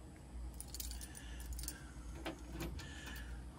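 Original car keys for a Mopar Dodge 440 drag car jangle quietly up close in a few short metallic shakes over a low background hum.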